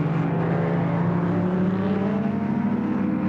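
Ford Falcon GTHO touring cars racing at Warwick Farm circuit in 1973, a steady loud engine drone holding a constant pitch throughout, close and continuous with no voices.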